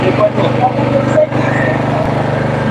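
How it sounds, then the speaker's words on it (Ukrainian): Generator engine running steadily at a busy outdoor market, a loud continuous motor drone with talk over it throughout. "Малинка, генератор."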